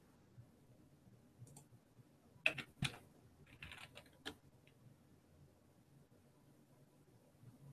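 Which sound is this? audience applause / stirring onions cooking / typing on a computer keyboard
typing on a computer keyboard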